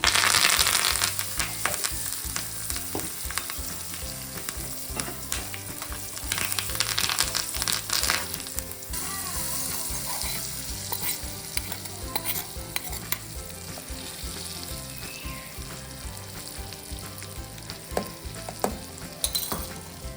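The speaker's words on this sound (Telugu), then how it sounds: "ఇవి వేగుతున్నాయి కదా, ఇప్పుడు కరివేపాకు వేసుకోవాలి." A tempering of cumin, asafoetida and curry leaves crackling in hot oil, a dense continuous sizzle with scattered sharp pops and stirring scrapes throughout, no talking.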